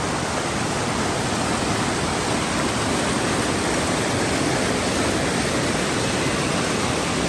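Creek water rushes steadily at a trail crossing in Kings Canyon on the Rae Lakes Loop, a dense, continuous broadband wash close to the microphone with no voices over it.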